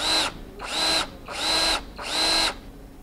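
Power drill boring a single hole through metal to be tapped, held square at 90 degrees: four loud, steady whining bursts, each about half a second long, separated by short pauses, close up with no talking.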